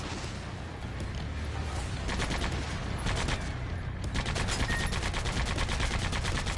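Rapid automatic gunfire from shooting down incoming missiles in the video game Sand Land, bursts of fast repeated shots building from about two seconds and continuing steadily over a constant background rumble.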